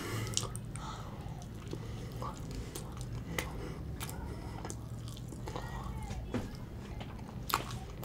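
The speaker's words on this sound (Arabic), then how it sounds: "يلا ناكل بقى" Someone eats oven-baked béchamel pasta with minced meat and oven-fried chicken breasts, with close, wet chewing, soft bites and occasional crunchy clicks in an uneven rhythm over a low background hum.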